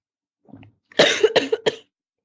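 A soft throat sound, then three harsh coughs in quick succession, close and fairly loud, with no talking.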